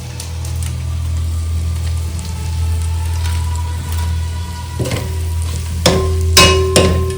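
Cooked rice stirred into prawn biryani masala in a pot, steady scraping and rustling of a spoon through the mix over a low continuous hum, with sharper clanks of the spoon near the end, no talking.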